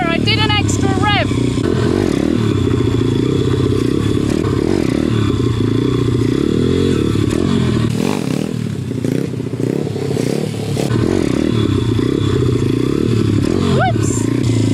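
Motorcycle revving hard during footbrake wheelie attempts, loud close engine roar with rising and falling revs throughout, with a voice speaking over it.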